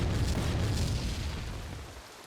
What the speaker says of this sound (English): Ooh, that's a big explosion.